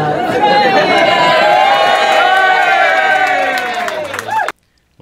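An audience at a political gathering cheering loudly, a dense sustained roar of whoops and shouted voices that holds for about four seconds before cutting off abruptly.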